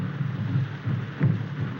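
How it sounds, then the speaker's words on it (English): Heavy rain with thunder on a 1932 film soundtrack: a steady hiss of downpour over a low, continuous rumble that swells briefly around the middle, with no voices. "This rain and those drums."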